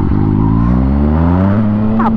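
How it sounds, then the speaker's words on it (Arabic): A nearby Yamaha MT-09 motorcycle engine revs steadily, its pitch climbing smoothly as it accelerates, loud and continuous throughout. "الموتور غير تاكسيري فيه تيبغي تهز غير بوحدو"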